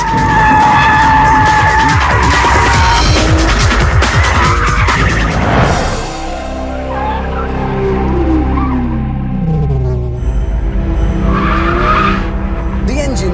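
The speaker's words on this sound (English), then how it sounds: "Don't worry, I'm not the drift god. Look, I'm going sideways." Porsche 911 GT3 sliding sideways through a drift, its tires squealing loudly over the roaring engine, with someone talking over the sound from start to finish.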